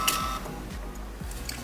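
A pocket printer prints a planner title, giving a steady mechanical whir with faint rhythmic feed clicks and a brief high electronic tone at the start, close and alone.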